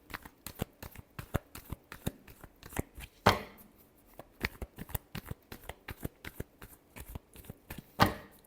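Tarot cards being shuffled in a rapid, uneven series of close riffs and slaps, with a couple of louder snaps as the deck is squared, no voices over it.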